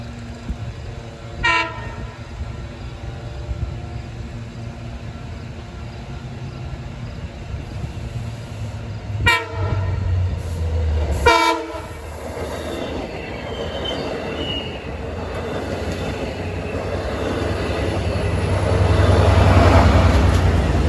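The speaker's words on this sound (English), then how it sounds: "We'll get to hear an operatic cab car horn on this train." A loud commuter train on the Port Jefferson Branch rumbles by with squealing wheels; its multi-tone cab car horn sounds in short blasts, then the roar swells as it passes close.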